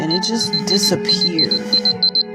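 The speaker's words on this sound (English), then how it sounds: "that's my alarm telling me to wake up" An alarm clock beeps in a rapid repeating pattern of high electronic tones, steady and fairly loud, while a person talks over it.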